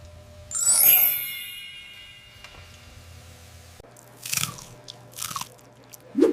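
A crisp bite into crunchy air-fried food, followed by a few loud crunching chews, close up with quiet pauses in between.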